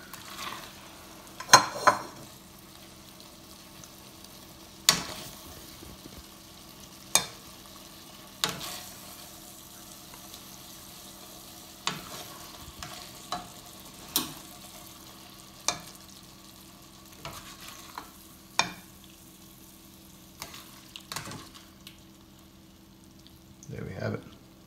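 Turkey ragu with campanelle pasta simmers in a pan, a soft steady sizzle punctuated by a series of sharp clinks and scrapes from stirring, with a voice talking over it.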